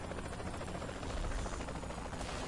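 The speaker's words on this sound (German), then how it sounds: "Sniper-Leute da oben im Helikopter." Helicopter in the video game Saints Row: The Third gives a dense, steady rotor roar and buzz, loud and continuous with no other sounds over it.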